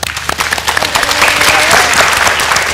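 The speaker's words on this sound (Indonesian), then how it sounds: "tepuk tangan untuk Dr. Sharma" A studio audience on a televised health talk show applauds Dr. Sharma, loud and close, the clapping starting scattered and swelling into a full, sustained roar over a few seconds.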